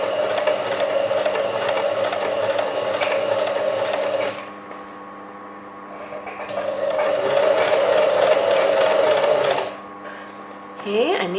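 A basic home sewing machine stitches a pant hem edge in two steady whirring runs separated by a brief pause, with a quieter stretch and light handling noise between them, and a voice talking over it.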